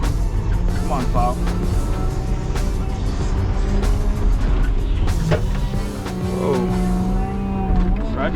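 A wheel loader clears snow from an icy parking lot at night, its diesel engine a loud, steady low drone with shifting whines and occasional clanks as it pushes, while someone talks over it throughout.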